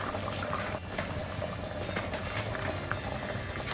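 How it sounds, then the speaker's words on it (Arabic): A pot of lentil soup bubbles steadily at a low simmer, with soft popping and gurgling throughout, fairly quiet and close. "خليها تغلي 10 دقائق"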